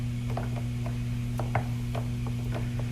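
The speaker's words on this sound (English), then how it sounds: "Then you remove the nuts on the T-fitting on the cell." A ratchet wrench turning nuts off a T-fitting on a cell, a close, quick series of light clicking ticks over a constant low mechanical hum.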